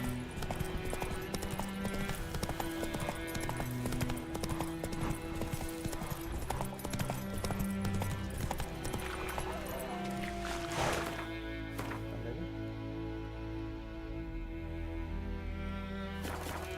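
In The Witcher 3, a horse gallops with steady, rhythmic hoofbeats over a continuous layer of game music and ambience; no talking.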